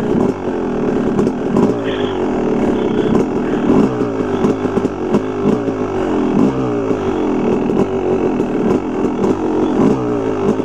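A motorcycle being ridden without a clutch lever, its engine loud and close, revving and surging in repeated uneven pulses over continuous mechanical drone.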